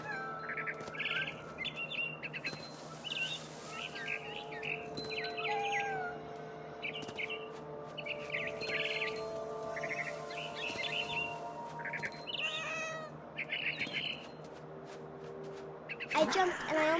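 Barn swallow calls from the video game What Remains of Edith Finch, with repeated bright chirps and twittering trills over a steady, fuller game soundscape, fairly prominent throughout.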